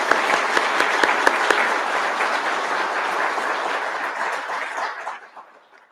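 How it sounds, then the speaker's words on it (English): Dense, loud applause from the crowd at a law enforcement training academy graduation ceremony, sustained and even before fading away at the end, with no voices over it. "Give one more round of applause."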